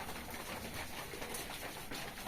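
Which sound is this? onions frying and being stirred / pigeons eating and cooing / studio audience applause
pigeons eating and cooing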